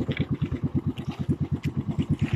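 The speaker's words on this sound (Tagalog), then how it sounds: "medyo maganit pa ang ating makina kasi bago pala." Newly bought small boat engine running steadily on a fishing outing, a fast even chugging pulse close by, alone with no talk.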